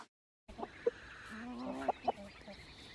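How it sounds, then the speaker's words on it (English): A small flock of farm chickens that follow dairy cows on pasture clucks softly, with a few sharper squawks and a rising warble over quiet outdoor background. "We have a small flock of chickens that follow the dairy cows in their rotation."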